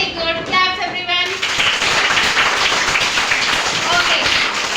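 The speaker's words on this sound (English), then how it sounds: "Claps, everyone." Young kindergarten children clap together in a classroom, a dense run of rapid, uneven claps that follows a brief spoken cue and holds steady and close for several seconds.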